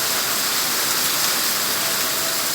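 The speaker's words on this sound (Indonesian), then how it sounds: "Ini posisi lagi hujan saat ini." Rain pours down in Banda Aceh with a dense, constant hiss, loud and close and unbroken.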